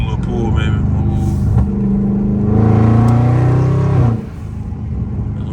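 A Dodge Charger Scat Pack downshifts and pulls hard, its loud close engine note rising in pitch through a strong revving surge before dropping off, with a deep rumbling tone throughout.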